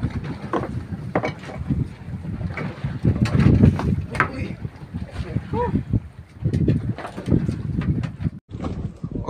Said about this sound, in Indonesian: Kuat angin ini, ombak pun besar.